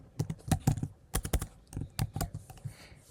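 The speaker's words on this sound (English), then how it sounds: "I'm going to type name" Quick clattering keystrokes on a computer keyboard while signing up for a Postman account, close and crisp, in uneven bursts with short pauses and no talking.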